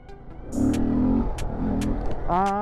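A small motorcycle engine, a Kawasaki Z125 or Honda Grom, revs hard on the throttle during a stunt session, holding a loud, steady mid-pitched drone that rises in pitch near the end.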